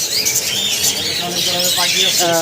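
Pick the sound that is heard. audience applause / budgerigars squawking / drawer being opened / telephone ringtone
budgerigars squawking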